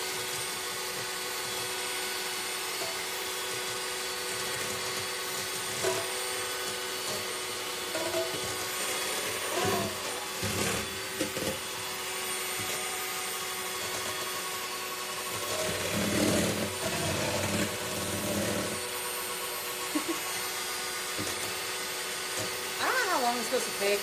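An electric mixer whips vegan cream for a Chantilly cake, a steady whirring drone running throughout with small bumps and scraping shifts, fairly close, with light talk now and then.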